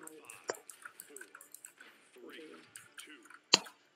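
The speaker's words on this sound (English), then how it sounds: "I'm chewing Trident" Wet, clicky mouth noises of someone chewing Trident cinnamon gum close to the microphone during a Paladins game session, with soft murmured voice sounds and one sharp smack near the end.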